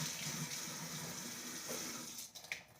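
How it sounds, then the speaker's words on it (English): Running tap water pours steadily into a kitchen sink as hands are washed, a continuous close hiss and splash that breaks up with a few sharper splashes near the end. "I'm going to wash my hands first."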